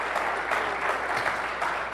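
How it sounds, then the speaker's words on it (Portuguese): A church congregation applauding during a service, a continuous hissing wash of many hands clapping at moderate distance, steady throughout with no speech on top. "Você pode aplaudir ao Senhor"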